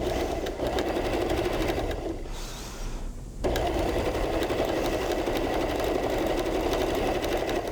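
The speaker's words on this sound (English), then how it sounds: "So I'm gonna just do a quick stitch around here" A sewing machine stitches in a fast steady whir, pausing briefly for about a second before running on, close and alone with no talk.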